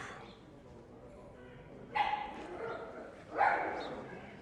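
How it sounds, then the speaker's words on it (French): Two short, faint dog barks sound a little way off, separated by a pause, over a quiet background hum. "Le petit chien qui a fait peur au grand chien."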